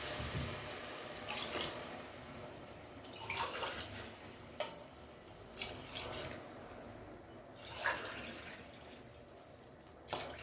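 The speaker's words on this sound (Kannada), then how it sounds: "ನಾಲ್ಕು ಗ್ಲಾಸ್ ನೀರು ಹಾಕೊಂಡಿದ್ದೀನಿ" Water is poured from glasses into a cooking pot for kushka rice, several faint splashing pours spread across a quiet kitchen background.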